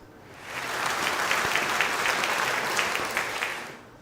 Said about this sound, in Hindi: पार्टिसिपेंट ए और बी दोनों के लिए कलेक्टिवली तालियां बजा दें।